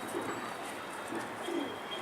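Soft, low pigeon coos repeat a few times against a steady background hiss, fairly faint and without any voices.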